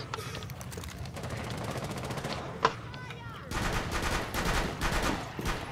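Rapid gunfire bursts from the Rainbow Six Siege video game, loud and repeated in dense volleys, with one sharp louder shot midway and a heavier stretch of continuous firing near the end.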